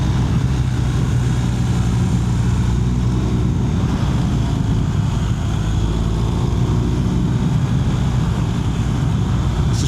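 A motorcycle ridden along the winding Tail of the Dragon road in America, a loud continuous engine drone blended with heavy wind rush, steady throughout without pauses.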